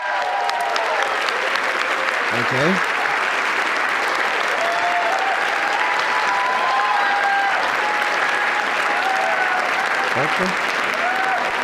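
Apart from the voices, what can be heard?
applause at White House Correspondents Dinner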